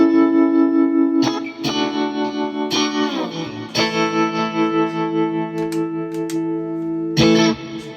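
A Fesley budget electric guitar run through a delay effect, sustained notes and chords ringing with repeating echoes trailing each attack, several distinct strums spaced a second or two apart, loud and close with no talking.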